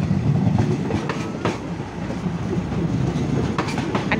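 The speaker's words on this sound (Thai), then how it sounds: "รถไฟกำลังเข้า สถานีนะคะเข้าชานชาลา" A train rolls into the platform at Mahachai station beside a market in Samut Sakhon, a loud continuous rumble with rhythmic clatter of wheels and a few sharper knocks, close by.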